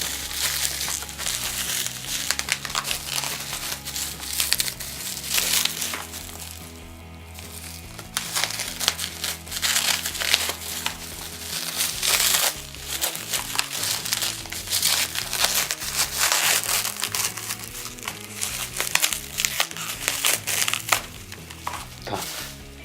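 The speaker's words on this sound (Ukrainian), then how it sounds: "Проводимо розпакування" Crinkling and crushing of plastic packaging as a camera battery pack for a Sony NP-BG1 is unpacked, a dense run of close, continuous rustles and crackles lasting throughout with no talk.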